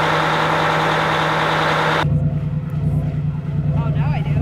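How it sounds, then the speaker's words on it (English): A boat engine runs steadily with a loud, even drone, then shifts to a lower, rougher idle partway through as a voice talks over it. "Now we're going to start the engines up just to rinse any extra dirt"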